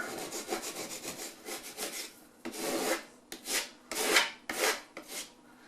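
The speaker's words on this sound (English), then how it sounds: "So pop it back in or scrape it off." Scraper rasping dried drywall compound and paint off a kitchen wall: repeated close scraping strokes, continuous at first and then in distinct rhythmic pulls, with no talk.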